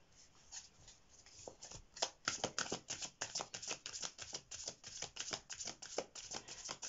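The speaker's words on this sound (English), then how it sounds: "while I'm shuffling the cards" Tarot cards are shuffled close up, a quick irregular run of crisp riffling and slapping bursts that grows busier after the first second or two, heard alone and fairly quiet.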